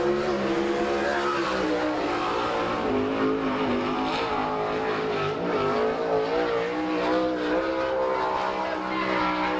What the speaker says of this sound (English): Gary Wright, who runs out in front as he comes around to complete lap number 1.